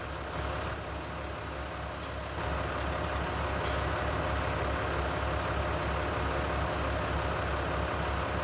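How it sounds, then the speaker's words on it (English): A tractor engine in Farming Simulator 19 drones steadily near a farm field, a continuous low rumbling idle that grows slightly louder partway through and holds without talk. "Tractor sounds so good."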